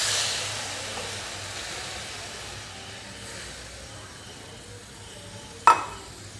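Banana stem cooks in a pan with water added for simmering, giving a soft, fading sizzle and hiss, then one sharp clank from stirring near the end, no voices.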